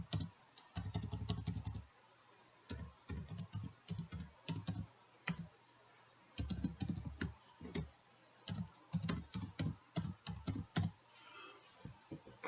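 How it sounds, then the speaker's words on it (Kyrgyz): Bursts of quick computer keyboard typing as an email address is entered, with irregular clusters of keystroke clicks broken by short pauses, close and fairly quiet. "Электрондук дарегибизди жазабыз."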